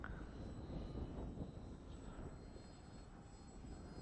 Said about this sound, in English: I'm nearly full throttle there, Phil.